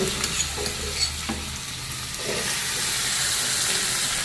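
Mustard seeds, cumin, asafoetida, chilli and ginger paste sizzle in hot oil in a pan, a steady close frying hiss with a few faint stirring clinks and no voices.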